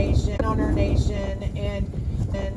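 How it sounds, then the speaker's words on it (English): Wind gusts buffet a microphone outdoors at a nighttime vigil in Washington DC, rumbling low and uneven as voices talk over it. "It's too windy tonight."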